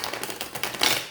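A quick riffle of cards being shuffled, a rapid flutter of crisp flicks lasting about a second, close and fairly loud.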